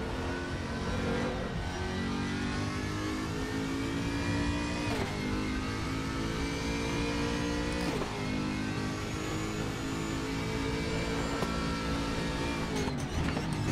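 A race car in the Raceroom racing video game revs hard and runs at high speed, a loud, continuous engine whine that briefly dips and climbs again with each gear change, with no talking.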